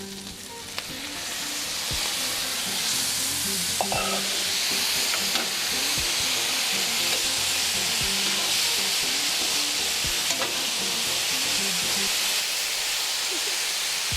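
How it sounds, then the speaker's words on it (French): Tomatoes tossed onto a hot plancha with browning onions sizzle and hiss steadily, a dense close frying crackle with occasional utensil scrapes and knocks as the mix is stirred. "Et je balance mes tomates."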